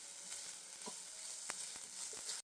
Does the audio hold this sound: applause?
no